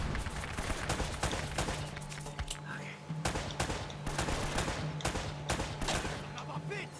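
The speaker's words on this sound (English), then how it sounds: "What the fuck is he shooting me with?" Enemy gunfire in the Uncharted: Drake's Fortune Remastered video game on PS4, a dense fusillade of rapid shots and bursts running steadily throughout over a constant low game hum.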